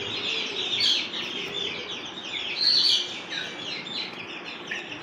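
Black Ayam Cemani chickens and chicks on a home farm give high peeping chirps and soft clucks, scattered and fairly close, over a steady low background hum. No one speaks.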